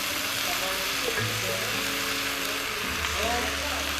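Mushrooms for beef stroganoff frying in a pan, after their water has cooked down: a steady, dense sizzle that holds evenly throughout, close by, with faint low background hum.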